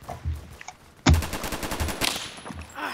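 Rapid automatic MP7 fire in the Phantom Forces shooter game, a loud sharp burst of evenly spaced shots starting abruptly and rattling on for nearly two seconds before trailing into quieter background noise.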